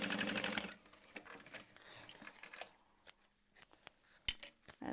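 A sewing machine top stitching a handbag, a brief fast whirring run at the start followed by quieter handling, clicks and a scissor snip, close up.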